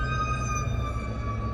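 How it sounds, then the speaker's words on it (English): An ambulance or fire truck siren wails in a traffic jam near a wreck, a loud sustained tonal siren held steady across the whole moment with no talk over it. "We've got ambulances, fire trucks flying all over the place here."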